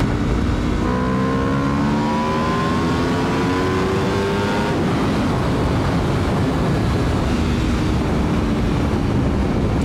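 An Aprilia RSV4 sport motorcycle engine revs up through rising pitch sweeps, loud and close, with heavy wind rush throughout.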